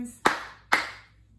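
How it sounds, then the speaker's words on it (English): Two sharp, separate hand claps about half a second apart, close and clear during a children's storytime read-aloud, with quiet room tone between them. "clap your hands"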